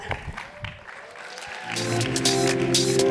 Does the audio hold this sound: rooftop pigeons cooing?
no